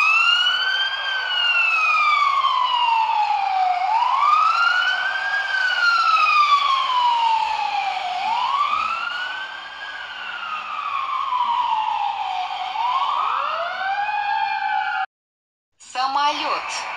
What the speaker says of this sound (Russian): Пожарная машина.